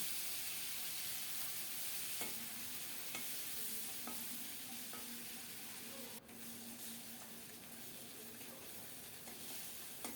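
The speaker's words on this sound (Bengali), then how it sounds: "সরিষার তেলে লবণ হলুদ মাখিয়ে চিংড়ি মাছগুলো ভেজে নিচ্ছি" Prawns coated in salt and turmeric frying in mustard oil, a soft steady sizzle with periodic spatula taps and stirring sounds, fairly faint overall.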